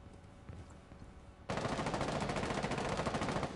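Sustained automatic gunfire in the video game Rainbow Six Siege bursts in loudly after a quieter stretch of faint game ambience and keeps rattling continuously to the end.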